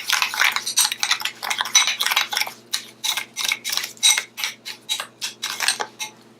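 Spoon clinking and scraping against a bowl while facial mask is stirred into brown sugar, a steady run of light, close taps and scrapes with no talking.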